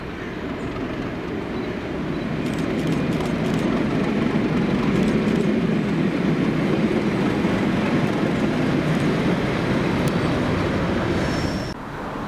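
Train running as 2Z02 with locomotive Caroline leading, a steady loud rumble of wheels and carriages rolling past close by for the whole stretch before easing slightly at the end.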